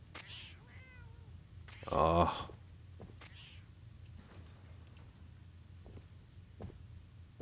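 A cat in the Fallout 4 video game gives a soft meow near the start, followed by a brief louder burst and faint game ambience, with a short spoken exclamation.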